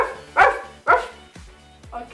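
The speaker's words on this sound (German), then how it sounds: "Hund. Hund, okay." A dog's bark played back as a WhatsApp voice message: four sharp, close barks in a loose rhythm, each tailing off quickly, with a thin, compressed phone quality.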